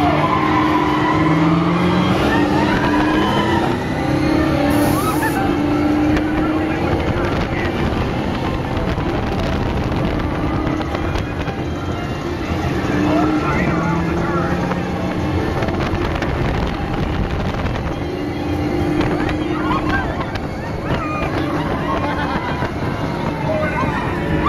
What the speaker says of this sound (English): We're gonna have one last ride on the racers at night.